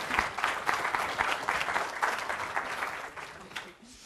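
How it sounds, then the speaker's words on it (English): Conference audience applause after a session talk, brisk rhythmic clapping from a mid-sized crowd that gradually thins and fades toward the end. "You can give applause at least."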